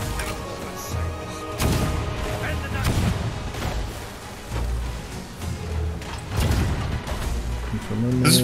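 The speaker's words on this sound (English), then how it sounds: "This is probably the cannon fire that we were hearing before." Ship cannon fire in a pirate video game, repeated booming shots and crashes at irregular intervals, some loud and close, others duller, with players talking underneath.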